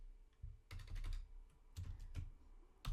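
Keystrokes clatter on a computer keyboard in two quick bursts of clicks, close and fairly quiet, with short pauses between runs and no talking.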